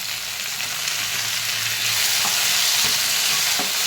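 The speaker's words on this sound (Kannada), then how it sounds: "ಟೊಮೆಟೊ ಬೇಯುತ್ತಾ ಇದೆ." Onions and tomatoes fry in a pan for a hot chutney, giving a steady, loud close sizzle with occasional stirring scrapes and no voices.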